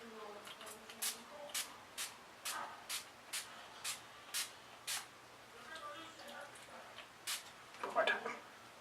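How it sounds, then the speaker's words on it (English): A dozen short hissing bursts of a facial mist spray bottle pumped in a steady rhythm close to the face, with a pause near the end. "I'm going to go ahead and spray my face"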